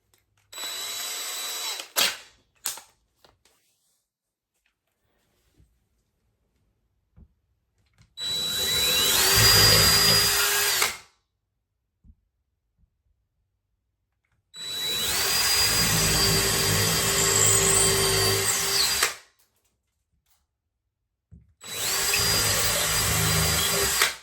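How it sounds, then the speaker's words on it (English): A power drill whirs in three separate bursts of several seconds each, drilling pilot holes in a wall for a clothesline bracket, spinning up to a steady high whine, with quiet pauses and small clicks between. "I'll drill the pilot holes, and then I'll screw the bracket directly into the wall"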